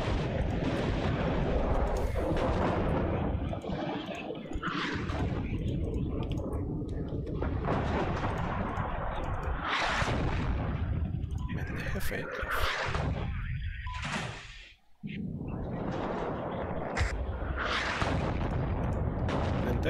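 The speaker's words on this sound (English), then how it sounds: "Their artillery is very pinpoint." Artillery fire in the war strategy game WARNO, a dense barrage of loud booming blasts and rumbling explosions rolling almost continuously, with a brief lull near the end.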